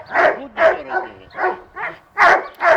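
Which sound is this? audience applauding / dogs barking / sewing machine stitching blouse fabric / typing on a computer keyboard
dogs barking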